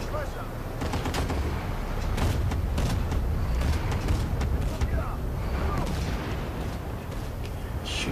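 Battlefield 1943's Guadalcanal battlefield erupts with constant overlapping rifle and machine-gun fire and booming explosions, loud and unbroken across the clip, while a player talks over the combat.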